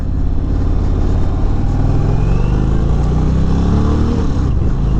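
Loud, close engine drone from a 2022 Indian Roadmaster Dark Horse motorcycle under throttle on a test ride, a continuous deep rumble with pitch slowly climbing as it accelerates.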